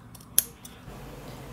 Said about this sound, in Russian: на верхних двух слоях делаем надсечку по линии внутреннего ромба, аккуратненько, чтобы не прорезать нижнюю, и потом вот ножницами